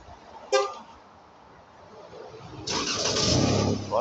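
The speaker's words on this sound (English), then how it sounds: "Voila, the car is running." A 2012 Chrysler 300 started by remote starter: a short horn-like chirp, a pause, then the engine cranks and catches into a steady idle nearby.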